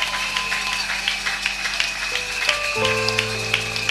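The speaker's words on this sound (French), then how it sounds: "Nous applaudissons." A church congregation claps in a steady, rhythmic beat that runs throughout, mixed with music and voices.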